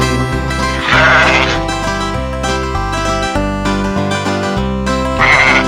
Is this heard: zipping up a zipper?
no